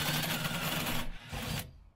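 A cone cutter (step drill) grinds through the sheet metal of a Peugeot J9 coffee van, making a loud, rough, rasping bite that breaks off briefly and then stops.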